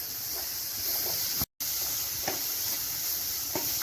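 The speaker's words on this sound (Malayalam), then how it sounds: "ചെറുതായി അരിഞ്ഞു വെച്ച രണ്ട് തക്കാളിക്ക് എടുത്തിട്ടുണ്ട് അതും കൂടി ചേർത്ത് നന്നായിട്ടൊന്നും കൂടെ ഒന്ന് വഴറ്റിയെടുക്കാം" Chopped tomatoes sauté with spice powders in a pan for Kerala-style okra curry, making a constant soft sizzle with a few faint stirring scrapes and a brief dropout.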